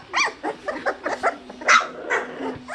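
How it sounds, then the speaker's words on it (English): Several small, high-pitched yips and barks from three-week-old puppies come in quick irregular bursts, close and fairly faint, with no talking. "Who's barking?"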